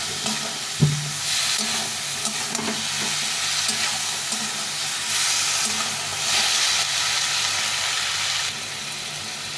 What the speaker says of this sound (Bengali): এইভাবে বাটা মশলা দিয়ে রান্না করলে তরকারির টেস্টটা বাড়ে। এটা আমি দিয়ে দেবো, এটাকে ভালো করে ভেজে নিতে হবে।